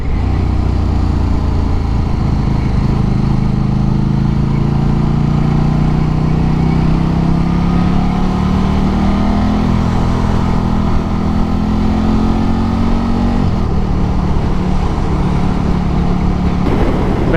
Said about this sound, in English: got some freaking traffic here or what?